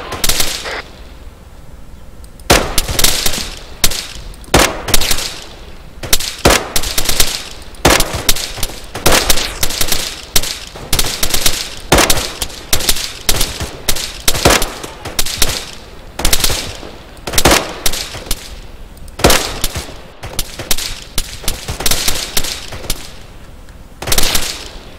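Gunfire in the military shooter game Arma 3, with loud, close bursts of automatic fire and single shots repeating in irregular volleys across about twenty-five seconds.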